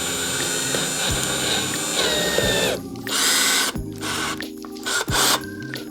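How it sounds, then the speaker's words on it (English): A Ryobi One+ 18V cordless drill driver bores into wood, its motor whining in repeated bursts that rise and fall in pitch, loud and close with brief gaps between runs. "Drill away"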